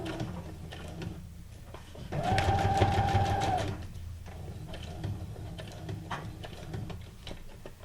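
Sewing machine stitching a straight seam on junk journal paper ephemera, a steady close whirring burst of about a second and a half between quieter stretches with faint room noise.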